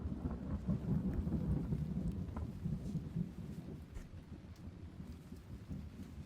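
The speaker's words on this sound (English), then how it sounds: "It was pouring now, and the stone walls rumbled, or rolling thunder shook the mountain itself." Heavy rain pours steadily in the video game Misericorde while deep rolling thunder rumbles loudly through the first few seconds, then eases into a lower, continuous storm wash with no voices.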